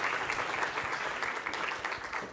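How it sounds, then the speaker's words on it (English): A live audience at a conference stage event claps steadily for a volunteer named Julie, dense continuous applause with no voices on top. "Give Julie a big round of applause"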